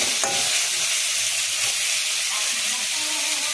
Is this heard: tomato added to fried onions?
yes